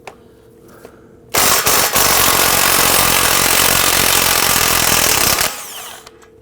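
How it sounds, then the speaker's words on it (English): A power tool with a 15mm socket spins off a pinch bolt on a 2009-2017 Volvo XC60 front suspension, a loud harsh burst of rattling impact lasting about four seconds, close up, preceded and followed by a quiet workshop. "Let's now use our 15mm socket and remove the pinch bolt."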